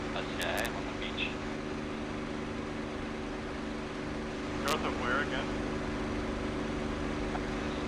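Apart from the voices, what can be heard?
P-51 aircraft engine in the video game DCS World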